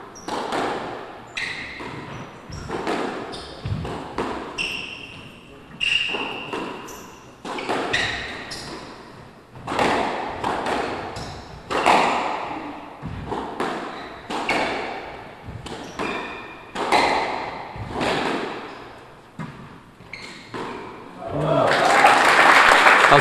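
Squash ball struck by rackets in a men's open final rally, sharp hollow thwacks and wall bangs repeating every second or so at a brisk uneven pace, under a commentator's speech, with applause swelling at the end.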